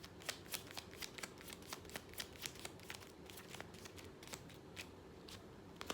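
A deck of tarot cards is shuffled by hand, giving quiet, rapid slaps and flutters that repeat in an uneven rhythm.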